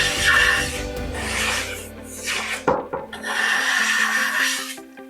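Hand plane drawing along a guitar fretboard, long rasping wooden strokes repeated about three times with a short pause between, close and fairly loud, no talking.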